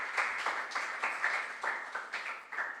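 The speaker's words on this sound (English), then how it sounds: "Let's clap for our contestants again." Applause for contestants at a junior science and maths quiz regional qualifier in the Western Region: faint, somewhat distant clapping with a steady, rhythmic pulse of bursts and no voices over it.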